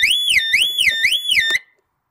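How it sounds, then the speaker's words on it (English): A car alarm on an Opel Tigra sounds close and loud as a rapidly warbling electronic siren, rising and falling about three times before cutting off abruptly, then silence. "Yeah, the alarm works."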